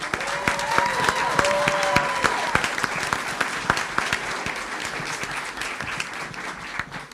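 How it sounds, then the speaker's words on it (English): Applause from the audience at a school board of education meeting, steady clapping filling the room for several seconds before thinning out, with a brief tonal sound early on. "We don't typically get this kind of applause for the fine arts piece."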